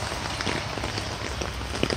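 Steady outdoor rain makes a dense, even hiss with scattered small drop ticks, close and constant throughout without any voices.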